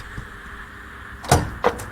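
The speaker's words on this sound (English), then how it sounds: "I reached another door, any door, and yanked it open." A door is yanked open: a faint knock, then two sharp clattering bangs in quick succession over a quiet room tone.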